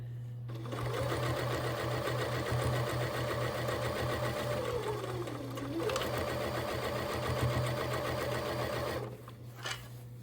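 A domestic sewing machine stitches quilt borders in a living room, running in a fast steady mechanical chatter for several seconds with a brief slowdown midway, then stopping with a few clicks at the end.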